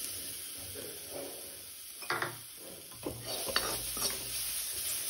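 One cup of coconut powder dry-roasting on low flame in a kadai for a somas recipe, soft rustling stirring and scraping of a spoon against the pan with a few sharper clinks, fairly faint and close.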